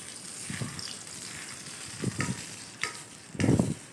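Egg and tomatoes frying in a pan, a faint steady sizzle broken by a few louder bursts of crackle as the food is moved around.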